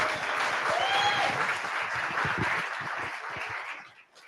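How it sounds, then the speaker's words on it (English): Warm applause from an evening gathering audience welcoming a legal aid attorney to the front, steady and fairly close for about four seconds before tapering off at the end. "please give me a warm round of applause"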